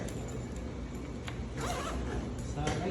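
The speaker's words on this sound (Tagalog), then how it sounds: "May zipper din po dito sa part." A zipper on a portable mechanical ventilator carrying bag rasps open in a quick run of close, scratchy pulls.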